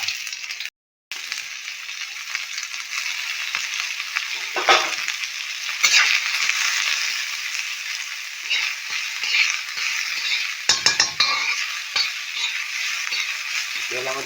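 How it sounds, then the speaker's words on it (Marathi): Onion and garlic fry in hot oil with a bright, continuous sizzle, broken by occasional stirring scrapes and a short break near the start. "पहिलं तेल टाकल्यानंतर मग लसूण टाकून घेतले आणि आता कांदा"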